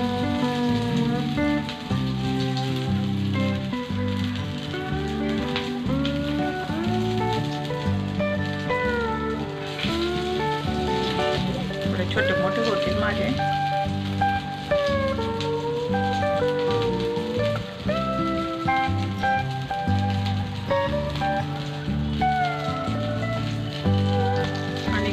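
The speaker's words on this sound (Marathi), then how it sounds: "आता हे आपण तवा ठेवलेला आहे, थोडं तेल घातलेलं आहे त्याच्यावर" Potato patties frying in a little oil on a flat griddle tava give off a steady, dense sizzle and crackle that runs evenly throughout, close by and without pause.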